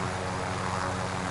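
Helicopter in the Call of Duty Warzone video game, a loud continuous rotor and engine roar filling the whole brief moment with no talk.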